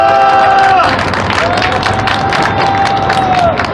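An outdoor protest rally crowd on a chilly evening applauds and cheers steadily, with clapping and shouting throughout while a sustained wavering tone, like a whistle or amplified shout, rises above it.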